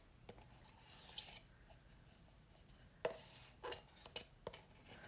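A tool scrapes thick modeling paste out of a container in short, irregular strokes, quiet and close, with sharper scratchy bursts between soft rubbing and near silence.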